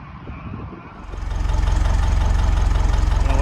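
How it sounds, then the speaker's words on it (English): An old Allis-Chalmers or Grey Fergie tractor engine starts up and settles into a loud, close, rhythmic idle with a steady low chugging and knocking beat, after a brief rougher stretch at the start. "He's got his little tractor working."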